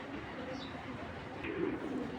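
Racing pigeons coo softly nearby with low, murmuring calls under a steady background hum, and a faint voice may be present.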